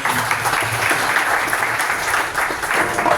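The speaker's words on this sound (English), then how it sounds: "let's give a round of applause." A crowd at a demo night breaks into steady clapping, a dense continuous patter of applause filling the room for a few seconds.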